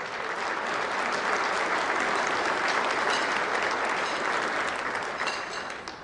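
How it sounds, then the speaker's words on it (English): Sustained audience applause at an organisation's meeting honouring board members and committee chairs, dense steady clapping from a crowd that holds level for several seconds and then begins to fade. "Let's give them a round of applause."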